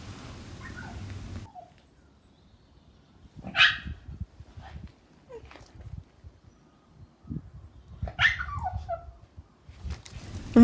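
Ted, a dog inside Dunstaffnage Castle, gives a few sharp, echoing barks and yelps separated by quiet pauses, with a low rumble at the start.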